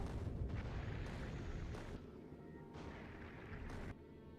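Railgun rounds fire from a ship in a sci-fi video game, landing as a series of heavy, booming blasts about a second apart. The shots are loud and close, with a dense rumble between them.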